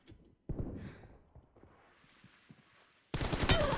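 Gunfire in the mobile game PUBG Mobile: a rapid burst of shots starts, trails into scattered quieter pops, then a second louder burst of automatic fire erupts near the end.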